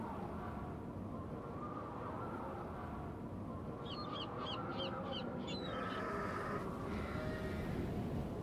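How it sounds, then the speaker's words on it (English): Crow cawing in the Nancy Drew game The Haunting of Castle Malloy, a quick run of about five harsh caws with a trailing call, set against a steady low ambient rumble, no voices. "Wonder what that crow's doing in there."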